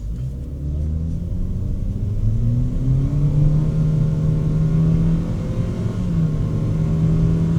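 A 2026 Mitsubishi Xforce accelerates hard through its CVT gearbox, a loud, close cabin engine drone rising steadily in pitch, then holding a smooth, even tone under road rumble.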